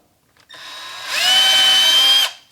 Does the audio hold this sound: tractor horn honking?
no